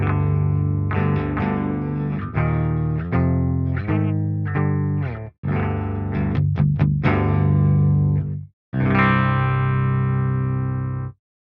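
Heavily distorted electric guitar played through a Marshall Silver Jubilee amp with no Fortin NATAS pedal, loud chugging riffs and sustained chords with two brief pauses and a final ringing chord.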